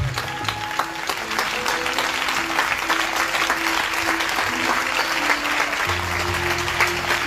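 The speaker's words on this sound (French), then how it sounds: "Someone can give a clap offering to the Lord Jesus." A church congregation claps together in praise of Jesus, a dense and sustained roar of many hands that fills the room, with a sustained musical tone running underneath throughout.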